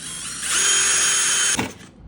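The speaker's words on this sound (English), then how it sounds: "So I'm gonna take the drill." An electric drill whirs in one loud, steady burst of about a second as it bores holes into an Epson 8550 printer, then winds down abruptly.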